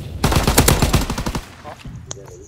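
Rapid video-game gunfire, a burst of about a dozen loud close shots in quick succession lasting just over a second, followed by a few faint electronic blips.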